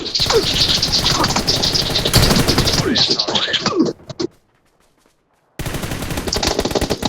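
Rapid automatic gunfire bursts in the mobile battle royale game PUBG New State, loud and dense for about four seconds. A few sharp shots follow, then a brief silence, then the firing resumes.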